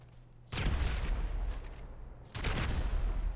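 Bombs burst in GTA 5, two heavy, sustained rumbling blasts with crackling debris, each starting abruptly and holding loud for over a second, separated by a brief quieter gap.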